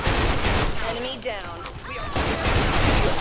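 A SIG551 assault rifle fires rapid bursts in the online shooter Special Force 2, loud and dense in the foreground, pausing briefly mid-clip before the fire resumes.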